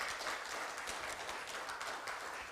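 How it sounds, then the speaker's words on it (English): A crowd applauds at an Indonesia–Korea CEPA agreement signing ceremony, a steady, dense patter of clapping from many hands heard from a moderate distance. "We need another big round of applause."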